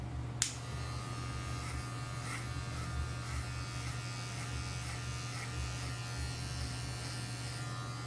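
An electric hair clipper fitted with a number 2 guard trims the side of a head during a fade haircut, giving a constant close mechanical buzz with a sharp click at the start and no talking.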